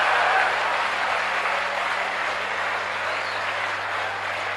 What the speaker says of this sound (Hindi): ताली कमजोर है यार,